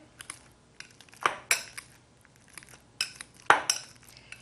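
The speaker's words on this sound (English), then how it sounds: "Just going to mash them up here." Bananas mashed in a bowl with a utensil: a series of soft squelchy presses and clinks of the tool against the dish, uneven in rhythm, close and quiet, without any voices.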